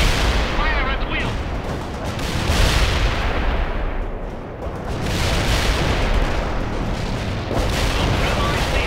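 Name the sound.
heavy armor gunfire in World in Conflict video game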